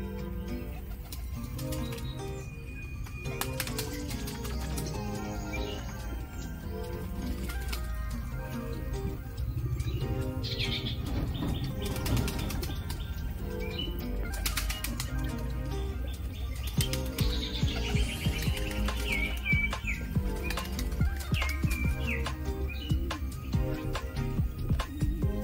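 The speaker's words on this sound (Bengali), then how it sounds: "তো দেখুন বন্ধুরা, আমার বাড়িতে পায়রা ছাড়াই থাকে।" Fancy high-flying pigeons let loose around a house coo and chirp on and off, with occasional wing flaps, at moderate loudness over a steady outdoor background.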